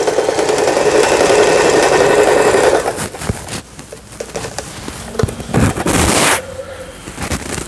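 An Elna 220 domestic sewing machine runs an overlock stitch, a steady close whirring drone for a few seconds, then stops and gives way to scattered clunks and handling knocks before briefly running again.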